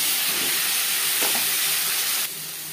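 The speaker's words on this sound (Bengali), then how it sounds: "আলু ভেজে নেওয়া কড়াইতে আবারও তেল দিয়েছি। পটল ভেজে নেব।" Peeled pointed gourd (potol) halves fry in oil in a wok just used for frying potatoes. A loud, even, close sizzle hisses, then drops slightly near the end.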